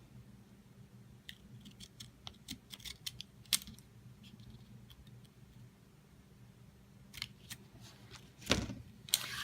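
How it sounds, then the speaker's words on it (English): Scissors snipping through a sheet of planner stickers, a run of short crisp cuts close by in a quiet room, with a louder clustered burst of cutting near the end. "I'm going to cut the bottom part off with my scissors"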